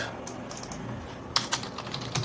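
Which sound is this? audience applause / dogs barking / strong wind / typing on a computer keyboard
typing on a computer keyboard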